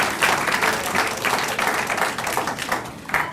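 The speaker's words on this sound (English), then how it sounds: "Let's have another round of applause for him." A university lecture audience gives a round of applause, dense and continuous with a few louder bursts of clapping and faint crowd murmur.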